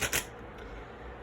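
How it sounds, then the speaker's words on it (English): Tarot cards being split and riffle-shuffled, a brief close burst of papery flutter at the start followed by quiet room tone. "whenever I split the deck in half to shuffle the cards"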